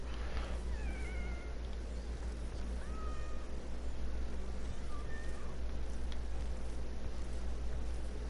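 A black cat in the video game Fishing Planet meows several times, short rising cries spaced a second or two apart and fairly faint over a steady hiss of outdoor ambience.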